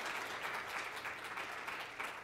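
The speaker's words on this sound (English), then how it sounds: "our panel deserves one last round of applause" Sustained audience applause for a panel at a climate innovation event, a dense, even wash of many hands clapping for the full stretch with no voices over it.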